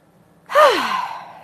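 One long, deep breath drawn in and released close to the microphone, a full sighing exhale fading out during a guided relaxation and tapping session.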